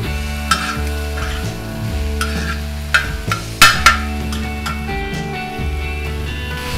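Green leafy vegetables seasoned with salt and sugar are sautéed in a pan, with a light sizzle and scattered spatula clicks and scrapes heard over steady background music.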